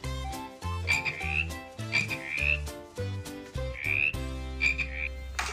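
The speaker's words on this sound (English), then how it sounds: "Green frog." Green frog croaking in a rhythmic series of loud, close calls, each a harsh low croak with a twangy upper tone, repeating steadily without any voices.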